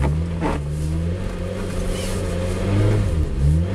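A Lotus Exige revs and pulls hard on a snowy course, its engine note climbing and shifting pitch through gear changes, loud and close, with no talk over it.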